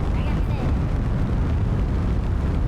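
Rocket engine roar from a launch in Kerbal Space Program, a loud, dense, continuous rumble that holds steady throughout, with no pauses or distinct bursts.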